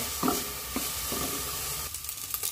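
Pork pieces and a pata bone frying in a pan, rendering out their fat for a mung bean stew, with a steady close sizzle and a few soft scraping stirs.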